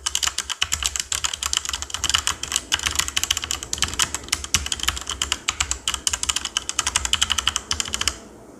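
A mechanical keyboard with linear Outemu Red switches is typed on steadily, producing a continuous stream of softer, quick keystroke taps close up for several seconds.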